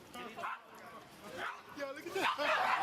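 Dogs bark and yip in short bursts as a bodega cat in Harlem charges at them, with people talking over the commotion.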